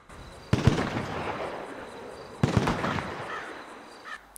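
Two distant gunshots in GTA V, each a sharp crack followed by a long rolling echo, spaced about two seconds apart over faint background noise.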